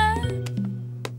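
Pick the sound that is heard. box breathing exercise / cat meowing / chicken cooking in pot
cat meowing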